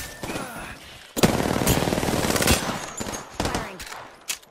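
Gunfire in the Apex Legends video game, with rapid bursts of shots that start sharply partway through and continue loud and dense, broken by short gaps and a final sharp burst.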